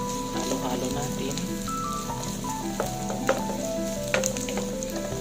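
Carrots are stirred and sautéed in a pan for a cabbage-and-egg dish, giving a steady close sizzle with scattered stirring clicks and scrapes over faint tonal background sound.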